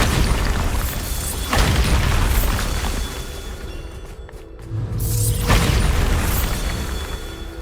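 Bombarda blasting-spell explosions sound in the video game Hogwarts Legacy: two heavy booms with crackling bursts, loud and close, separated by a quieter rumbling stretch.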